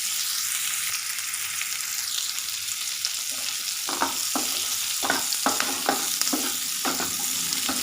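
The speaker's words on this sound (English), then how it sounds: "Fry it at least for a minute." Steady sizzle of paneer butter masala ingredients frying in a pan, with a run of distinct scraping stirring strokes joining in about halfway through, close and fairly quiet.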